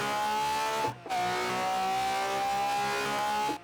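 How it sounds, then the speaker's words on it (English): A powerful all-wheel-drive FRS with a V12 swap roars at high revs in a racing video game, its engine note holding steady, then cutting briefly around a shift before screaming on again while the car slides. "Even though this car is all-wheel drive, it still slides with this amount of power."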